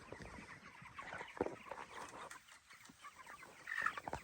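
Hens in chicken tractors out on grass cluck in short, scattered bursts, fairly close, with a few sharper squawks toward the end over a soft outdoor background.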